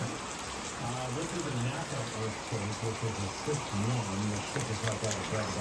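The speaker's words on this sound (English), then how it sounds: "And now it's pouring rain." Heavy rain from a tropical storm pours in a constant hiss across the whole stretch while someone talks over it close by.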